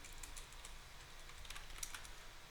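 Computer keyboard keys clacking in quick, irregular bursts as code is typed for a Unity project, faint and close with no voices.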